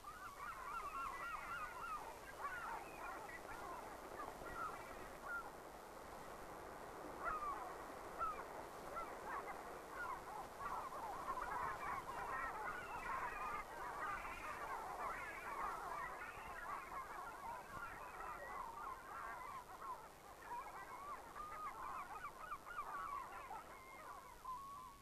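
Gannets and seagulls squabble over fish at the docks in 1940s Pembrokeshire, a dense, unbroken chorus of honking squawks and cries held at a steady, moderately faint level, with no voices.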